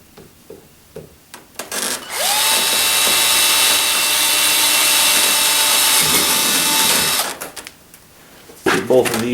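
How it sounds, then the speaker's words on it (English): Power drill boring pilot holes for sheet metal screws, a loud, steady high whine lasting several seconds, with someone speaking nearby before and after it. "Okay, we'll drill the pilot holes for our sheet metal screws."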